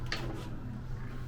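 The small car door on a Pretzel dark ride car from an old amusement park ride, displayed at a retro arcade in Hanover, Pennsylvania, is opened. It gives a short wooden clunk close by and nothing more.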